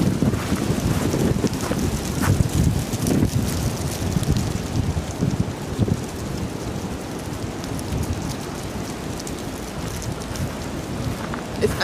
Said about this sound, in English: today it's been really, really windy